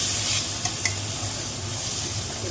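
Food with salt being stirred in a frying pan while cooking bhola fish with flat beans, a continuous close sizzle with a couple of brief utensil knocks.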